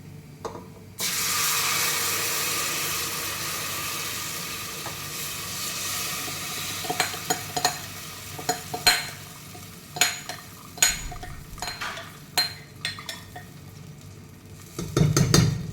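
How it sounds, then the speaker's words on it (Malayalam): Ground kalathappam batter hits a hot pan with a sudden loud, sustained sizzle that gradually fades, followed by clinks and scrapes of utensils against the pan. "അപ്പോൾ ഇനി ഇതിലോട്ടേക്ക് നമ്മുടെ അരച്ച് വെച്ച കൂട്ടൊഴിച്ച് കൊടുക്കാം."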